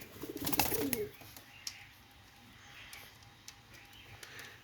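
Pakistani teddy pigeons kept for sale coo softly in the background after a brief louder flurry at the start.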